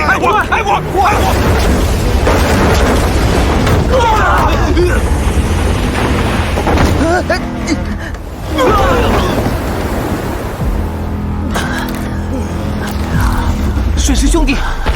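Cannon fire and explosions rage in an animated naval battle, heavy booms and rumbling blasts over crashing water, with shouted voices throughout.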